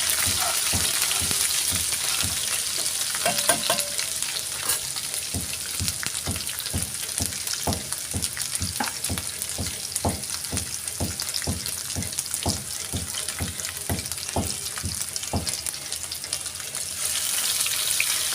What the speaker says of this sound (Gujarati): મરચાંની પેસ્ટ, આદુની પેસ્ટ અડધી ચમચી નાખશું, સરખી રીતે સાતળી લઈશું